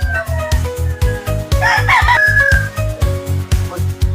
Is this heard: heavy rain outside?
no